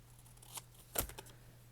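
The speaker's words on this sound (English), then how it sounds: "I think this is the line I want to cut on." Scissors snip through paper for a journal page in a creative daily planner, a few quiet cuts with one sharper main snip over a low steady hum.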